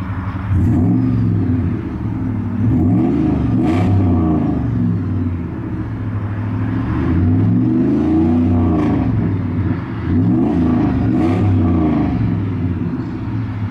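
A 2003 Dodge Ram 1500 SLT with the Hemi engine revs repeatedly, its deep rumble climbing and falling in several smooth swells, loud and close, with no talking over it.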